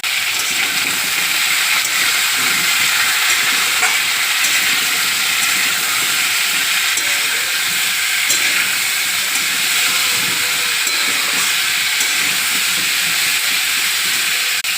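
Rohu fish pieces frying in a pan with turmeric and salt, a loud, continuous close hiss of hot oil running unbroken with no talking.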